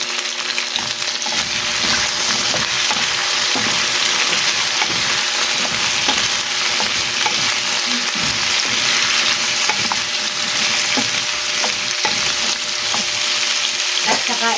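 Squash (kalabasa) frying and sizzling steadily in a pan for home cooking, a continuous broadband hiss with light stirring clatter throughout, near and fairly loud, with no talking.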